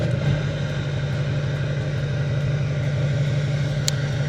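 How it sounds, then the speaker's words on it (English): Duramax diesel truck engine idles close by, a steady low rumble with a faint rhythmic knock and one brief sharp click near the end. "let's start the Duramax up, because we're gonna need that torch"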